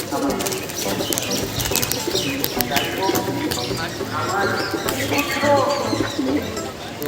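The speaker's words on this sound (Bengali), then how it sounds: "আজকে সব তলগরম পায়রা দেখানো হবে" Roller pigeons coo in soft, repeated throaty calls against a busy background of flock sounds and fluttering, with faint voices mixed in.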